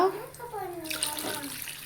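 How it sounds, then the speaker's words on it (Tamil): Water pours steadily into a cooking pot for a ground toor dal sambar, a continuous splashing gush close by with a soft voice briefly underneath. "இப்போ வந்து தேவையான அளவு தண்ணி சேர்த்துக்கிறோம்"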